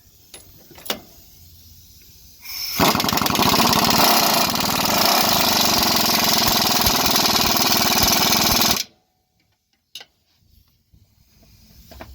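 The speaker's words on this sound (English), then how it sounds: "So we're gonna go ahead and start tightening all the bolts." A power tool tightens bolts on the cab mounts of a Freightliner Cascadia truck in one loud continuous mechanical run of about six seconds, with a few clanks and clicks before and after it.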